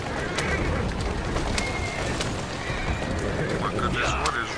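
A horse neighs and whinnies in Assassin's Creed Syndicate, along with clip-clopping hooves and cooing pigeons over a busy, continuous game background.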